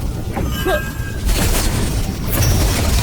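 An explosion bursts in with a deep rumble and carries on as a sustained roaring blast, after a few brief whooshing sounds.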